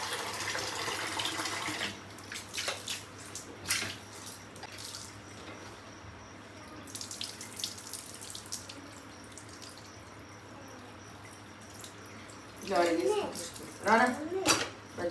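Tap water runs into a kitchen sink as a bowl is washed, with a steady faint stream, clinks of dishware and brief splashy scrubbing toward the end while a voice talks now and then.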